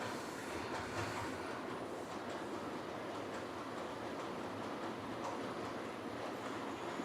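A Siemens model train runs along a model railway layout, making a continuous, fairly quiet rolling rumble with light clicking from the track throughout.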